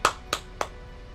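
Three sharp hand claps ring out at an uneven pace, close and fairly quiet, with silence between them.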